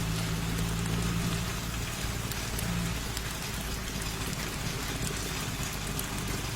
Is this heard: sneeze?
no